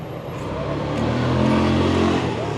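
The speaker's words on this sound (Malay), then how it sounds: "jalan ni sebab dipenuhi dengan taksi dan juga kereta-kereta yang lalu lalang" Cars and taxis pass along a busy Istanbul street, a close engine rising and swelling as it accelerates by, with a continuous traffic rumble underneath.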